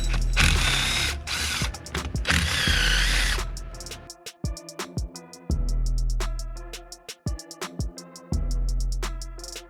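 A hand ratchet clicks rapidly and up close as it backs out 10mm bolts from a Tremec transmission shifter base. Bursts of metallic clicking alternate with short pauses and the odd clink of tools.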